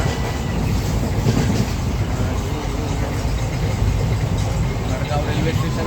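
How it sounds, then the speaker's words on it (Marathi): A Delhi to Madgaon passenger train runs along, heard from inside the carriage as a constant, loud, broadband rumble and rattle with no clear pauses. "दिल्लीवरनं मडगाव ट्रेनने प्रवास केला तर त्याच ट्रेनमध्ये बसलो आहे."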